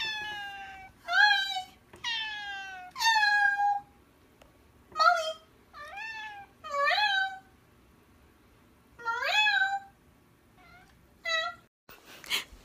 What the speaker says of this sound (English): whenever you hear a cat talking to me, that's her